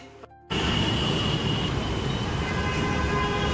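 A metro train interior or platform roar starts abruptly after a short quieter moment, then holds as a loud, steady rumbling hiss.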